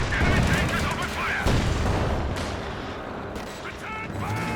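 Rifle gunfire from G43s in a Company of Heroes 2 battle, mixed with distant artillery booms and dense combat noise, sustained and loud throughout with no pause, under a game commentator's voice.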